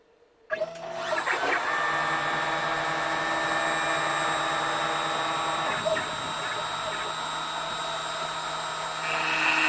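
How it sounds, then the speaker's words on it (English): A CNC router spins up with a sudden start and then runs as a steady, loud, high whine with a constant machine hum beneath it for several seconds, without speech. "let's take this router for a test drive."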